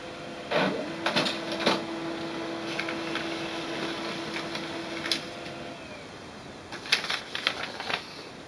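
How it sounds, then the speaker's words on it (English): An HP Neverstop Laser MFP 1200w laser printer prints a test page with a steady mechanical whir under sharp clicks and clunks that come in bursts at the start and near the end. "Let us print a test page."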